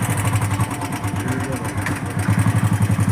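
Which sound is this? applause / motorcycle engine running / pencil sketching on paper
motorcycle engine running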